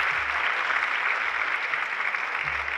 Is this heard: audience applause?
yes